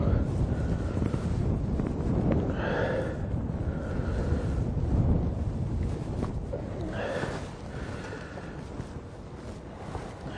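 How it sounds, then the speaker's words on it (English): Gusty wind roars across the microphone outdoors on the Tennessee River during a bass fishing tournament, heavy low rumble with voices talking faintly underneath. "The wind is picking up now."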